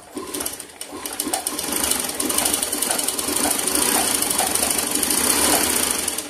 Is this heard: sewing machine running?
yes